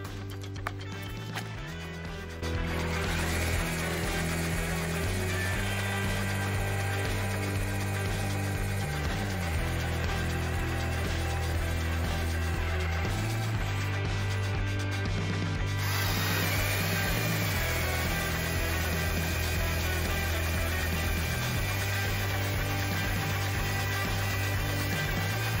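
A Parkside 20-volt rotary hammer drills steadily at speed 2 with a rapid pounding rattle, loud and close, running continuously with brief pauses and shifts in pitch.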